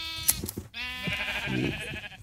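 Sheep bleating in the Minecraft video game, a few short wavering bleats in quick succession, clear and close with no talking.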